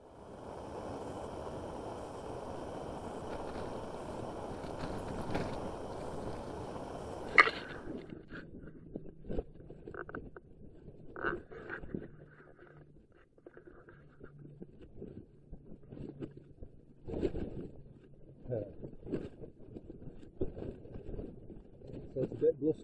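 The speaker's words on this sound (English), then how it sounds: "So it's a bit blustery." Blustery wind at a winter wild camp on White Edge, a broad rushing roar buffeting the microphone for several seconds before easing, followed by quiet gusts and faint rustling while a person talks.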